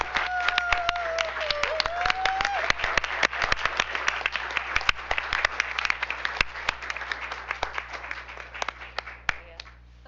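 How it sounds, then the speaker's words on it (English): A room full of people at a school district board meeting applauds: continuous, crisp clapping with many sharp individual claps. It runs for the whole stretch, with a brief murmur of voices early on, and only eases slightly toward the end. "So everybody give her another round of applause."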